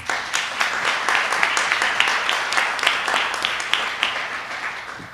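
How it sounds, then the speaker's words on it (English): Symposium audience applauding in a hall, a dense steady patter of many hands clapping for about five seconds at moderate level, heard alone without speech. "Let's give them all a round of applause."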